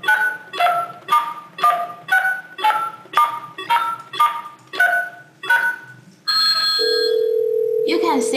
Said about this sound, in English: You can see that the SJ phone is ringing.